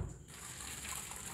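Water pours out of a pot of boiled gram flour dumplings as it is drained, a brief close gushing and splashing that runs for over a second.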